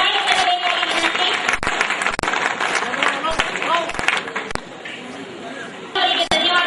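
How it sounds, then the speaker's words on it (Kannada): An audience claps loudly and continuously at a district panchayat public gathering, a dense wash of applause with crowd murmur mixed in. "ಜಿಲ್ಲಾ ಪಂಚಾಯಿತಿ ಇವರಿಗೆ ಜೋರಾಗಿ ಚಪ್ಪಾಳೆ ತಟ್ಟಬೇಕಾಗಿ"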